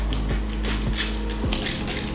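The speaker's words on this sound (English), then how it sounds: "So you're gonna take your spray bottle" Several short hissing sprays from a spray bottle misting braided hair, quick bursts spaced about half a second apart, close and fairly loud over a low steady hum.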